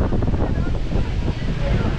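Strong wind batters the microphone outdoors among pine trees, a loud, continuous low roar and rumble with no break.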